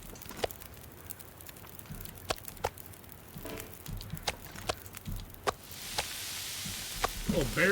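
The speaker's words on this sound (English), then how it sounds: "We're getting a little grilling going on" Bear meat grilling over a campfire in The Long Dark, a soft steady sizzle under sharp intermittent crackles and pops, with a brighter hissing swell near the end.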